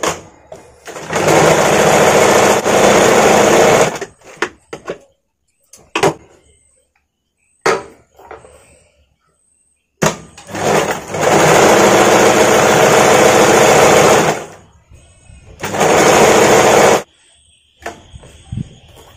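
A sewing machine runs in loud sustained bursts while stitching a picot edge on a padded princess-cut blouse, two long runs and a shorter one separated by quiet pauses and brief clicks.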